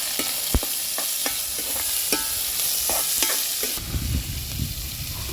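Chopped shallots and garlic sauté in a pan with a steady close sizzle, punctuated by sharp scraping stirs, then the frying roars louder and fuller in the final seconds; no one speaks.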